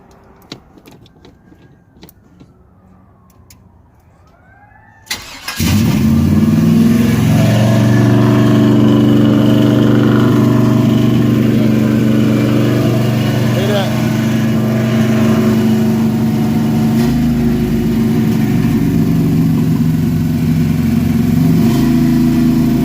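A 1974 Chevy Caprice V8 fires up after a few seconds of quiet handling noise, then idles loud and steady through its new exhaust with a deep, rumbling drone that holds for the rest of the clip.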